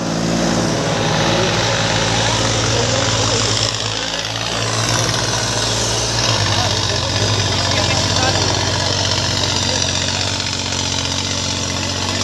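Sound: Massey Ferguson 9500 tractor engine running

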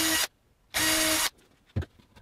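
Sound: power drill drilling wood

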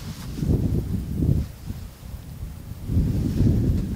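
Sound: wind

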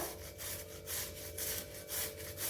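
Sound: carrot being grated on a small grater

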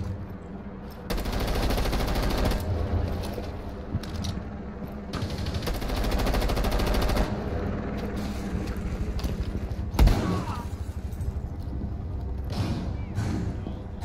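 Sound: gunfire in video game Rainbow Six Siege

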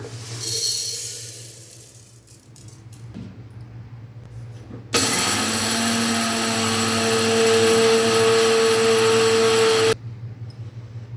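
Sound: mixer grinder grinding roasted urad dal

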